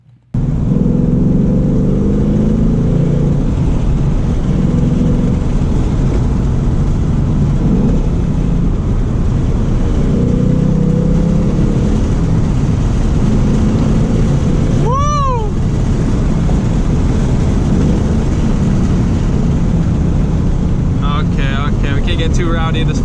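A 2019 Ford Mustang GT drives on a canyon road with a steady, close engine drone under heavy wind rush. One brief whine sweeps up near the end.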